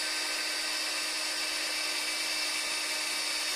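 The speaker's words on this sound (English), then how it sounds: "We're going to be drilling the hole." A handheld drill bores a hole through a motorized bike clutch cover, a steady high-pitched whine that runs unbroken and close up.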